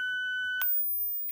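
A steady high-pitched electronic test tone plays from a speaker, holding level before a short burst of noise cuts in, with a quieter burst near the end and no talking.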